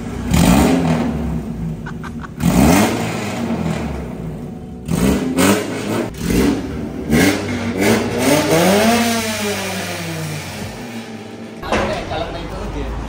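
A 1999 Honda Civic SiR VTEC engine with a budget muffler revs hard again and again, loud and close, climbing and falling through repeated sweeps with people talking over it.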